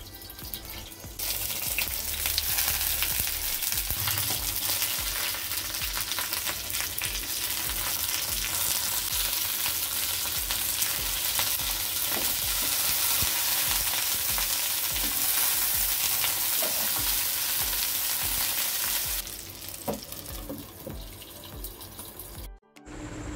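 Hilsa paturi wrapped in taro leaves cooks in a covered pan over a medium gas flame, giving a steady, dense frying hiss with watery sputtering that runs unbroken for most of the stretch, then drops away near the end.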